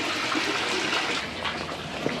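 A large pot of water for Dindigul-style biryani at a rolling boil, a continuous churning, bubbling rush that sounds close and steady throughout.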